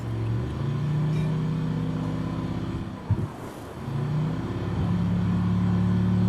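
An RV rolls along in the co-op video game RV There Yet?, its engine a steady low rumbling drone with a brief dip and a small bump midway before it climbs back up and keeps running.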